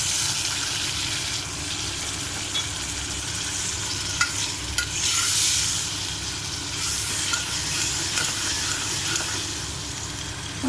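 Chopped tomatoes fry in a pan for a chamagadda pulusu curry, giving a close, continuous hissing sizzle that holds steady for about ten seconds, alone with no talk.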